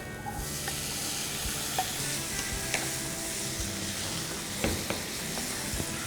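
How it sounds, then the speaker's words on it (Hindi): Chopped tomatoes are stirred into hot oil spiced with turmeric, chili powder and coriander powder, hissing and sizzling at moderate level with a few scraping clicks of the spoon against the pan. "क्विक स्टर और इसमें हम डालेंगे चॉप्ड टोमेटोज"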